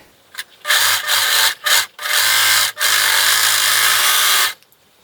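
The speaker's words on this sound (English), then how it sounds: "I'm going to sew this with a 3/8 inch seam allowance, and I'm going to sew with either a serger or a zigzag" A serger or zigzag sewing machine stitching a headband seam in loud, close bursts, with a short whir, a couple of brief stops, then a long steady run before cutting off.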